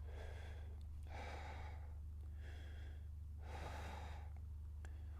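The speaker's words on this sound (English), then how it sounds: "we practice breathing from the abdominals and from the diaphragm" Deep, steady breaths drawn from the abdomen and diaphragm while holding a plank with legs extended. Four slow, airy inhale-exhale swells, close and fairly soft, over a constant low hum, with no talking.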